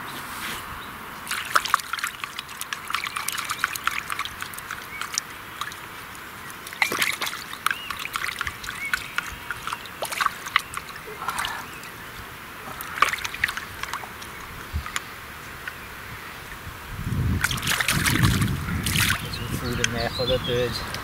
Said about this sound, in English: So I'm going to go and wash the dishes in the river.